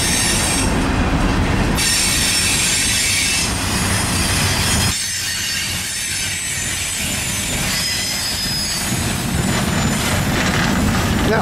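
Norfolk Southern manifest freight led by a Dash 9 and AC44C6M locomotives, with SD60E and SD40-3 units, rolling past loud and close: a continuous roar of wagons with squealing wheels and rhythmic clickety-clack.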